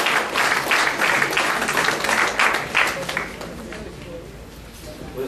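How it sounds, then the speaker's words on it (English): A group claps for youth leaders at an evening introduction event, a burst of applause that fades toward the end, with voices mixed in. "give them a big round of applause"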